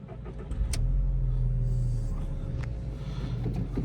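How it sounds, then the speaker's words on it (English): VW Beetle convertible engine cranking and catching, then settling into a steady mid-pitched idle heard close up, with no talking over it. "First thing to do, put the roof up, is we will start the car."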